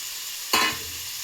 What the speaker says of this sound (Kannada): ತರಕಾರಿ ಎಲ್ಲ ಚೆನ್ನಾಗಿ ಇದರಲ್ಲೇ ಫ್ರೈ ಆಗಿದೆ ಎಣ್ಣೆಲಿ